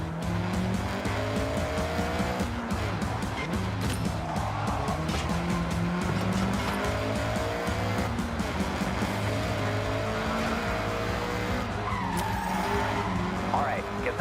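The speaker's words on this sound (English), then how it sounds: "All right, get the CRX up to speed." Honda CRX at full throttle in the Forza Horizon 6 racing game, a steady high-revving engine drone with tire squeal and skidding throughout, while people talk over it.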